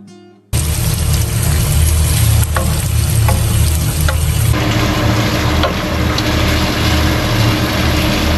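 Thick steak, cut into pieces, fries loudly at a campsite, with a dense, constant sizzle and crackle after a short quiet start and a few soft knocks.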